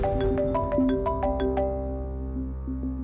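A mobile phone ringtone plays a bright chiming melody of rapid repeated notes, clear and moderately loud, fading into a sustained tone at the end.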